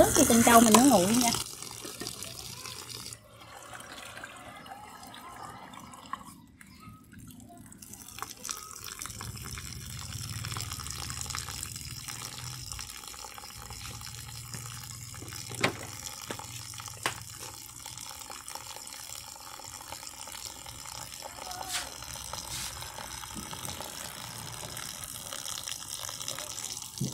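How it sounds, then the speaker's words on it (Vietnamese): Tap water runs over boiled tapioca pearls to cool them, making a long, steady rush of water with occasional splashes and drips. "Rồi mình sẽ xả nước cho trân châu mình nó nguội nha."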